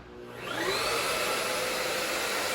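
A Hoover 2-in-1 wet and dry floor cleaner switches on, its motor whirring up over half a second into a loud, steady whine that holds close and constant.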